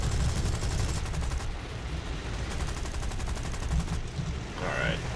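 Rapid bursts of British Hispano aircraft cannon fire in War Thunder, a steady rattling stream of shots over a dense low rumble, continuing throughout.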